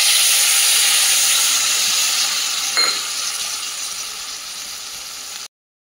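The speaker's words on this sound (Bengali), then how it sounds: "এই অবস্থায় আমি বাটির মধ্যে যে মশলাটা ছিল সেই বাটি ধোয়া জলটা একটু যোগ করে" Spice paste fries in a pan for a pumpkin greens dish, a loud steady sizzle that flares with a hiss as the bowl-rinsing water is poured in, then softens and continues until it stops abruptly.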